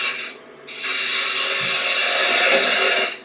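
A smaller spindle gouge cuts a wooden bud vase spinning on a lathe, giving a steady, close, raspy scraping hiss that pauses briefly and then continues evenly.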